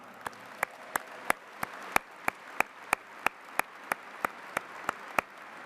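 Sharp, evenly spaced claps ring out at a police academy recruit graduation ceremony in Boston, about three per second and fairly close, over a low hall murmur with no speech.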